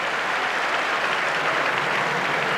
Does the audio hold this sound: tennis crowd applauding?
yes